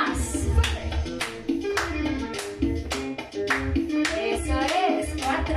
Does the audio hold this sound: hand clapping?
yes